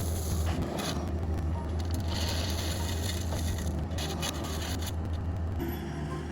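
Gravel crunches and rattles steadily as it is poured over a drain pipe laid in a trench, a continuous gritty rushing with scraping, close by.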